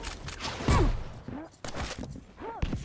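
A railgun shot in Quake Champions during a duel fires with a sharp crack, along with other weapon blasts and zipping effects, under quick excited commentary.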